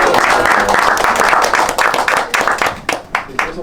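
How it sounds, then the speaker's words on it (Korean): An audience at a post-screening talk for the film Annapurna breaks into loud, close applause, dense at first and then thinning into scattered individual claps toward the end. "함께 해주신 어떤 안나푸르나 팀에 박수 한 번으로 시작할 수 있을까요?"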